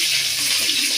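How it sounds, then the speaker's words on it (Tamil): A brief rush of water poured into a pan of fried mustard seeds and chillies for rasam, a steady bright splashing hiss that fills the whole moment. "தண்ணி ஊத்திடணும்"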